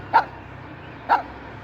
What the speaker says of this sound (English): Be nice to the dogs here.